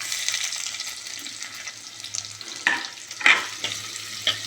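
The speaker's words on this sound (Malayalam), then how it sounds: "ഇനി ഇതിലേക്ക് ഞാൻ ആ വലിയ ഉള്ളി ആദ്യം ഇടുകയാണ്." Big onion drops into a tablespoon of hot oil in a clay pan, giving a bright continuous hiss with a few louder spatters and crackles near the end, and no talking.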